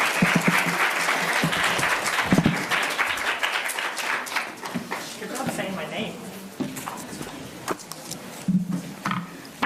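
An audience applauds to welcome a speaker at a talk, a dense burst of clapping that tapers into scattered claps and cheers, with voices and some rustling toward the end.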